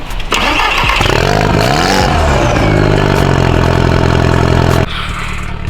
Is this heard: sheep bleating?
no